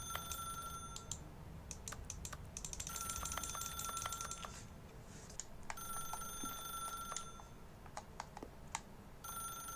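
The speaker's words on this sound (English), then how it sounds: "Let me answer the damn phone" Telephone in the video game The Stanley Parable ringing in repeated bursts of bright electronic tones, fairly faint, over soft clicking of keys and a mouse.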